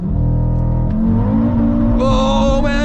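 An Audi RS3 with 564 hp, traction control off and gearbox in sport mode, launches at full throttle on a German road, its engine roaring loudly and rising steadily in pitch from inside the cabin.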